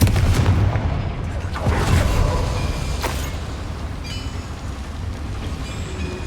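A Confringo fire spell blasts inside a mine in the Hogwarts Legacy video game, a loud rumbling booming burst with crackling impacts that fades into a sustained low roar.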